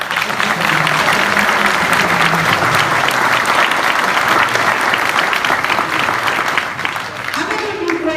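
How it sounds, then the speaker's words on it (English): Audience at a building opening ceremony clapping, dense sustained applause filling the room for several seconds before tapering, with a voice speaking briefly as it dies down. "So I want to give Chuck a round of applause."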